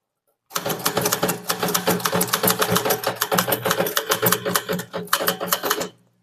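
Fast typing on a typewriter in full caps with the shift key held, a dense, close run of rhythmic key strikes and clacks that starts abruptly and stops just before the end.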